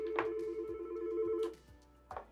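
Incoming call ringing on a 3CX business phone system, a steady electronic ring tone with a few short beeps, fairly quiet and alone.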